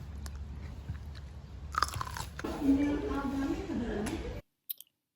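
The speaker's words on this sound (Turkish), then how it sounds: "Elma yedin çünkü Çağla." Someone bites into and chews an apple up close, crunchy bites and wet mastication over a couple of seconds, with a voice speaking alongside, then a short silence and a faint final click.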